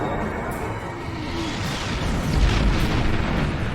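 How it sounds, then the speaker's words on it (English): Herald ships firing on a time portal in Star Trek Online, a loud, continuous roar of booming energy blasts that swells toward the end. "The heralds are firing on the portal!"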